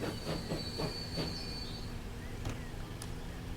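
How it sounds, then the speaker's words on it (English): A train in the Transport Fever 2 video game rumbles along steadily with a low rolling drone, a few rhythmic clacks and a thin high wheel squeal, heard up close as if riding on top of it. "As we ride on top of the train."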